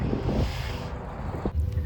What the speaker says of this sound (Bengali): হাওয়া দিচ্ছে আসলে প্রচণ্ড